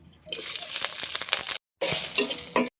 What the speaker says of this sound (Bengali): লঙ্কা ভেজে নেব